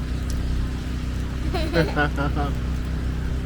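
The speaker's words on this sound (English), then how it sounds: "It's a little loud here because I-95 is literally just like 400 yards from where we are." Traffic on the I-95 highway about 400 yards away makes a constant low roar and hiss, heard from an RV campsite after heavy overnight rain, steady in the background while a person briefly talks over it.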